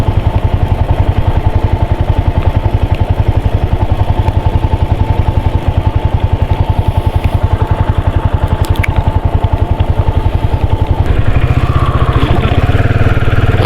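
A motorcycle engine idles steadily at close range early in the morning before a ride to Leh in Ladakh, a loud, even, rapid chugging with light mechanical clatter that grows slightly heavier near the end.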